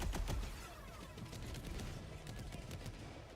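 A weapon's artillery function firing in Helldivers 2 against the Illuminate, a rapid string of booming shots up front that settles into a continuous rumbling barrage, fairly quiet overall.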